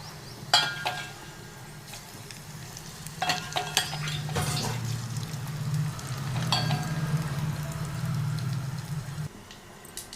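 Fried tempering (popu) poured into mung dal for pachi charu, giving a loud sizzle and bubbling with a few sharp clinks of a utensil against the pan, then easing into steady frying.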